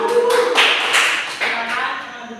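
Classroom students clapping for a small presentation group, a short burst of scattered claps over a faint tonal hum, moderately close and fading toward the end.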